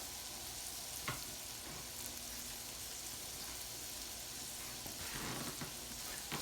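Oxtails and vegetables sauteing in a pot over turned-up heat, a steady close sizzle and crackle with occasional stirring clatter, no talking.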